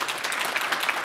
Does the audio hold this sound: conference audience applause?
yes